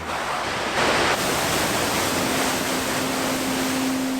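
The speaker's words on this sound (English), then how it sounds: "This water falling through the streams here" Water tumbling through streams and gathering into a mighty roar, heard as a steady, loud, continuous rushing wash with no breaks.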